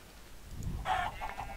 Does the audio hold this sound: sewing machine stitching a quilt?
no